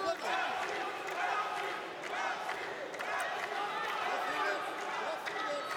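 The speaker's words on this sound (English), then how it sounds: "Armenians in the crowd cheering their man." Armenian fans in a crowd cheering for their boxer Manoukian, a continuous dense roar of voices and shouts with a commentator talking over it.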